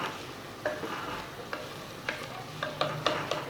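Spoon stirs mutton handi with coriander in a cooking pot, soft scraping with several sharp clinks against the pot over a low sizzle, close and alone.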